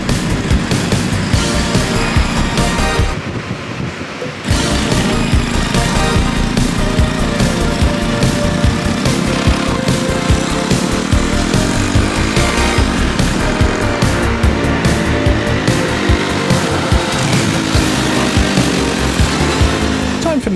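A small engine in a home-built mini jeep runs continuously on a test drive, a loud, buzzing, rattly drone with a brief dip in the middle, then steady revving.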